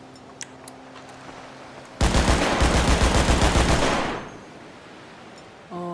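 A combat MG machine gun from a FiveM sound pack fires one loud, rapid sustained burst of about two seconds, the shots merging into a dense rattle before a short tail fades out.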